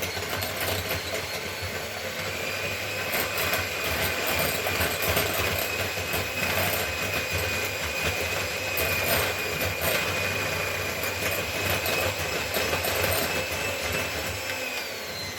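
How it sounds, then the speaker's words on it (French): Electric hand mixer whisking cake batter for an apple-pear and chocolate cake, a continuous motor whine with rattling in the bowl, steady and fairly close throughout. "si vous avez un batteur, vous prenez votre batteur et vous mélangez"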